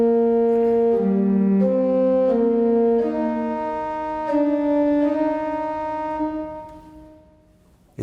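Pipe organ playing the stately opening theme of a Bach triple fugue: slow sustained notes moving in steady steps, full and resonant, then fading near the end, with no talking.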